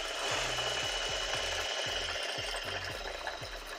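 A sewing machine stitches sequined double gauze fabric, running with a steady, fast mechanical rhythm of needle thumps under a constant whirring hum, close and continuous.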